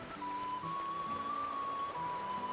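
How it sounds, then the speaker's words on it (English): Steady rain effects in the video game Xenoblade Chronicles 2: Torna, a constant soft patter across the whole stretch with a sustained tone running underneath and no voices. "Oh, I love rain effects in games."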